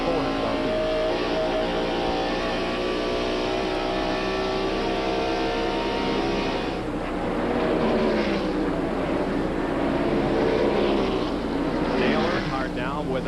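Stock car engines roaring around Darlington during the 1994 Transouth 400, a steady loud drone that swells and fades as cars pass, with commentary talk over it.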